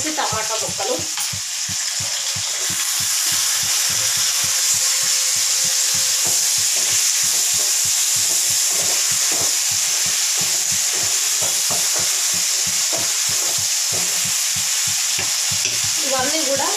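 Bottle gourd pieces with tomato, fenugreek-cumin powder and coriander powder sizzling in a pan, a steady close frying hiss broken by a fast, regular scraping of stirring strokes.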